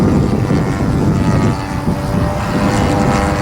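A 50cc Revolver engine on a radio-controlled airplane runs steadily at half throttle during a maiden flight, a loud continuous droning buzz that stays near and even for the whole stretch, with no voices over it.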